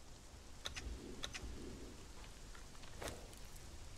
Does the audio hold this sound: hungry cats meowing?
no